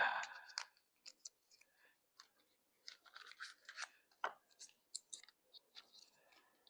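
A perfume box being opened up close, quiet scattered scratches, clicks and cardboard scrapes in short bursts with silence between them.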